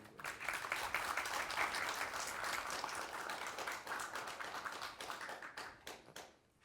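Meeting attendees at a cultural heritage agency's monthly heads-of-agencies meeting clap together in a steady, dense burst of applause that fills the room, then thins out and fades near the end.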